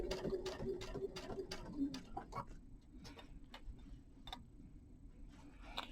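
A sewing machine stitches a quilt's binding edge with a quarter-inch seam, running in a quick, regular burst of rhythmic ticking needle strokes before slowing to a few scattered clicks.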